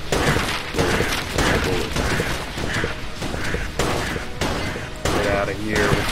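Enter the Gungeon video game combat: rapid bursts of cartoonish gunfire and missile blasts in dense repeated volleys, loud and continuous, with a player's voice talking over the action.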